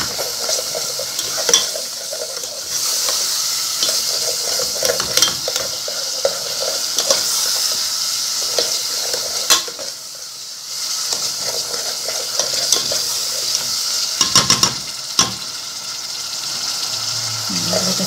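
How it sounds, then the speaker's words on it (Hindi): Spices and ingredients with sugar being roasted in a pan for achwani, giving a continuous close hiss and sizzle broken by occasional spoon scrapes and clinks against the pan, with no talk. "थोड़ा सा हम चीनी डाल के भी इसको भूनेंगे।"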